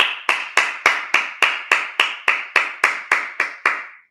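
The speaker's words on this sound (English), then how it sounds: "clap it up" Fourteen evenly spaced sharp claps ring out in a steady beat during a Sabbath church service, each crisp hit decaying briefly before the next, like hands clapping in unison with no voices.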